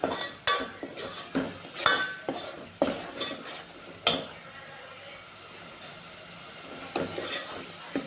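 A spoon stirs and scrapes masala roasting in oil in a pan for a village-style chicken curry, sharp metallic scrapes and knocks against the pan in an uneven rhythm over a low background sizzle.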